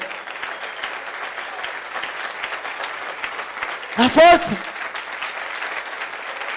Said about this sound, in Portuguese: Aplauda direitinho.